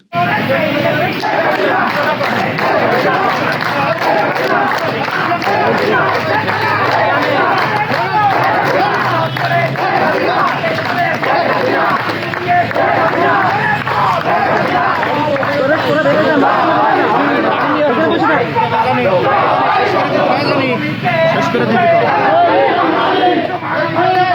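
Dense crowd noise from a Jubo League street procession in Jessore, many voices massed together in continuous loud babble and shouting with some clapping, busy and unbroken from start to finish.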